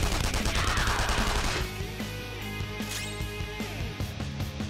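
Persona 5 Royal gunfire in battle, a rapid close burst of shots at the start, then a series of quieter, evenly spaced reports under game music.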